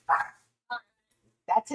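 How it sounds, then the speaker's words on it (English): A dog barks three times, short sharp yaps spaced irregularly and close by, with silence between them. "Sorry about the barking."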